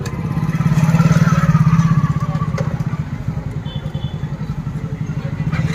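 A motorcycle engine idles and revs up close at a busy market parking area, a steady low rumble with a louder swell in the first two seconds, then settling back to an even putter.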